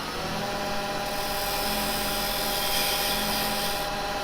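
Carbide chisel shaving wood on a spinning lathe, a steady broadband rushing hiss over the motor's even hum, close and continuous with no talk.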